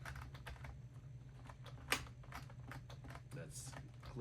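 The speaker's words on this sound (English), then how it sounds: "That's clicking sound." A UGears Millennium Falcon wooden model mechanism gives off a run of quick, dry clicks while its spring slips under load, close and steady, with one sharper snap partway through and a low hum beneath.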